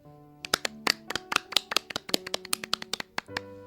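Two hands clap rapidly with all five fingers to imitate rain: a dense, uneven patter of sharp, close slaps building in pace, over a soft sustained musical tone in the background.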